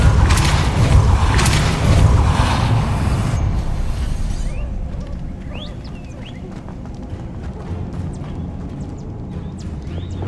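A Depulso spell cast in Hogwarts Legacy lands as a heavy booming blast with rumbling low end, fading into quieter game ambience with faint chirps and light movement.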